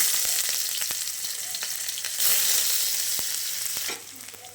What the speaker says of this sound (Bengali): একটু পেঁয়াজ ফোড়ন দিলাম।